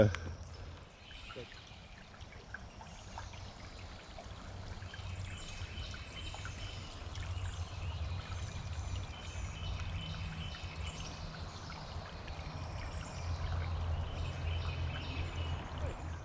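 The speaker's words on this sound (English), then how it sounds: "you can see the water running downstream here" Water runs and trickles steadily in a shallow stream on the Trough Springs Trail, Monte Sano, Huntsville, Alabama, with faint birdsong in the background and a low rumble underneath.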